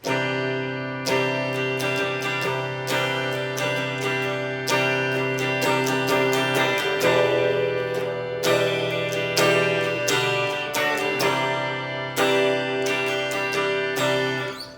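Strummed guitar chords ring out in a steady progression, each chord struck sharply and left to sustain, played alone and fairly close.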